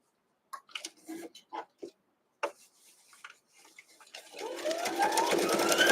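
Sewing machine stitching a fabric quilt block, starting up in the last two seconds as a rising, steady whirring hum, after scattered quiet handling clicks and rustles of fabric.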